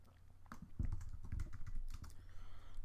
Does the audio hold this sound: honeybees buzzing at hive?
no